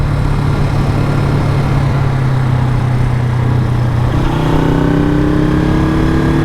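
A Honda super sport motorcycle engine hums at a steady, fairly loud pitch, then its tone climbs as the revs rise near the end, with no voices.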